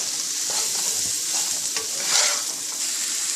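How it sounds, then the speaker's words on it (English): Cabbage and peas sabzi with ginger sizzles in a hot pan as a spoon stirs and scrapes through it, close and steady with no talking. "Take your ginger from the bottom, stir this well."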